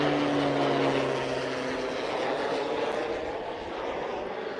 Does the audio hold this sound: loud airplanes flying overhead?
yes